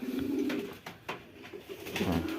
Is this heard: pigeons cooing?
yes